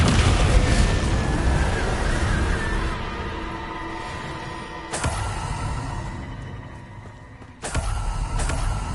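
Explosive spell blasts such as Confringo in the video game Hogwarts Legacy: dense booming bursts with rumbling debris, a loud sustained blast opening, then sharper impacts near five and seven-and-a-half seconds, no talk.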